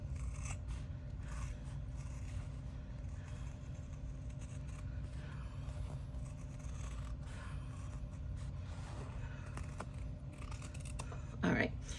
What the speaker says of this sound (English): we can go ahead and cut to our 1/4 inch seam allowance